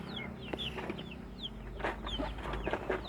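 Indonesian village chickens, some suffering from worm infestation, cluck and chirp nearby in a farmyard, with short scattered calls and soft murmuring clucks over a low rumbling background hum.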